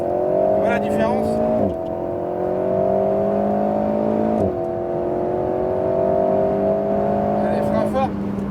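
An Alpine A110 S on the Le Mans Maison Blanche circuit accelerates hard. Its engine note climbs steadily through the revs, breaks briefly at each upshift and climbs again, with a voice coaching from inside the car.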